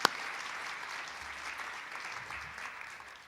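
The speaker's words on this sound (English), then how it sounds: "I would like to ask a big applause to the supporters as well." A crowd at the EIT Community Hub Türkiye kick-off event at ODTÜ Teknokent applauds the event's supporters, a soft, even patter of clapping that sounds fairly distant and slowly fades, with one sharp knock at the start.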